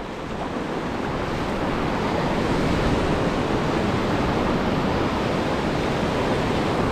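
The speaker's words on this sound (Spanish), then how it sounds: "Vean, está bien bajito ahorita el mar." Low, calm sea waves wash steadily onto the shore at a shrimp-baited shore-fishing spot, a continuous broadband surf roar with wind noise on the microphone and no talking.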